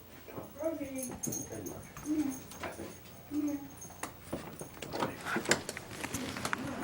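A dog whimpers in several short, high whining bursts near the microphone, mixed with household bustle, footsteps and people talking nearby.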